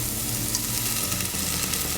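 Apple cider vinegar sizzles hard in a pan with onions and garlic for barbecue sauce, a loud, steady, crackling fry that fills the whole moment without speech.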